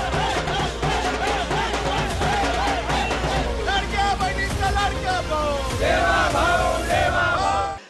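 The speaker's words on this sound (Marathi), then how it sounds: "फडणवीसांच्या नावावर शिक्कामोर्तब झाल्यानंतर राज्यभरात भाजप कार्यकर्त्यांनी जल्लोष केला।" A crowd of BJP workers in Maharashtra celebrates after Fadnavis is confirmed, cheering and shouting together in a loud, dense roar of voices that runs throughout with rising and falling calls.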